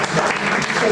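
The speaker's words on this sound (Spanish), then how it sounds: "Bueno, pues os damos un aplauso." Audience at a lecture gives a short burst of lively applause, dense clapping from a crowd filling the room.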